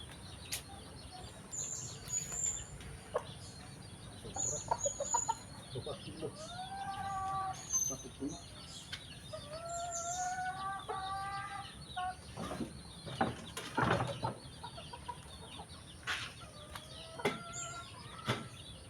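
Native chickens cluck and call in short repeated bursts while being weighed, over steady background noise, with scattered knocks and rustling throughout.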